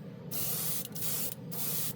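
An airbrush sprays paint through a 0.3 nozzle at a hobby bench, giving a steady, close hiss that dips briefly twice before resuming, with no talking.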